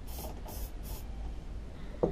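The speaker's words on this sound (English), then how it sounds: "This is with some spray lube." Spray lube from an aerosol can while working on a Tecumseh mower engine, three short hissing bursts in quick succession, faint over outdoor wind noise, followed by a small tap.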